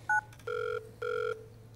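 Phone dialing tones in the VR game Surgeon Simulator: a short double beep followed by two longer electronic dial tones separated by a brief pause, clear and fairly close over a low steady hum.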